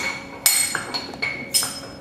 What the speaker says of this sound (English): Sometimes it does take a slight impact with the bearing removal tool